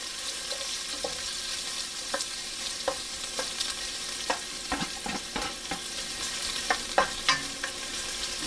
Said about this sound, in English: we're going to throw our onions in there, and as I mentioned, we're going to get that nice and sauteed